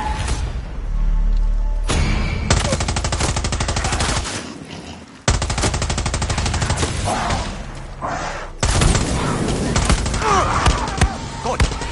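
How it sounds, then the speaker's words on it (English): Rapid bursts of automatic gunfire rattle in long, loud volleys, broken by brief pauses, with game-like thuds mixed in. "Is that gunfire?"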